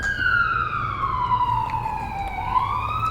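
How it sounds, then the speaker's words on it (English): A wailing emergency siren sweeps slowly down and back up in pitch, steady and moderately distant over low traffic rumble. "She could hear sirens all night"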